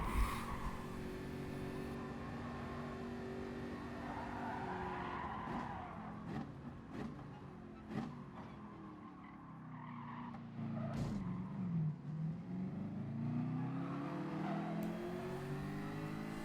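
Race car in a racing video game skidding with tire squeal and engine revving, then whacking into a wall, a continuous engine drone throughout with no talking.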